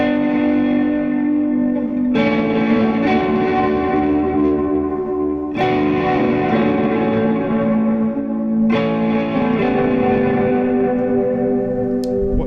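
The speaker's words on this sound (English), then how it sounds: "All I have on there is a delay and my reverb and an overdrive pedal" Electric guitar chords, overdriven and drenched in delay and reverb, struck three times and left to ring out in long washy sustains.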